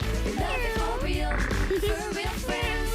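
A Real Friends Kitty Cat toy, light- and touch-activated, gives several rising and falling electronic meows mixed with upbeat music and a voice speaking.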